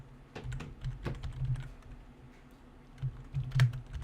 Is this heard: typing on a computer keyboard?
yes